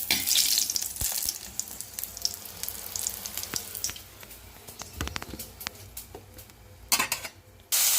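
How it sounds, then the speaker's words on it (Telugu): Green chillies frying in oil in a pan, a steady close sizzle with scattered pops and stirring clatter, a brief louder burst near the end. "పచ్చిమిర్చి అయితే బాగా ఫ్రై అయినాయి కదా"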